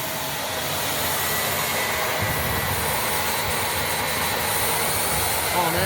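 Bagless upright vacuum cleaner running with its suction turned down, giving a continuous, even whooshing motor roar that holds steady from start to finish with no talking.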